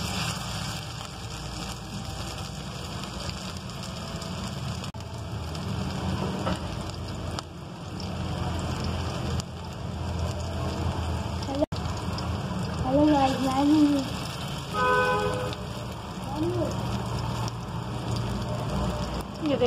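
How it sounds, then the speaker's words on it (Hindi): Chapli kebabs fry in a hot pan with a steady, crackling sizzle that runs throughout, while a person speaks intermittently over the cooking. "ये देखें ये 2 कबाब हमने डाल दिए हैं, इसे अच्छे तरीके से हम फ्राई कर लेंगे।"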